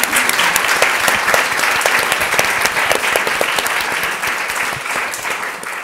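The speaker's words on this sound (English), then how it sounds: "Can we do another round of applause?" A loud, sustained round of applause from an audience honoring panelists at a diversity dialogue event, dense clapping throughout nearly six seconds.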